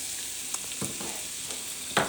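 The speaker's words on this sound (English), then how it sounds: "it's sizzling just a little bit" Roughly chopped baby spinach hitting a hot frying pan for a spinach cheese omelette, a faint soft sizzle with a few brief stirring crackles close by.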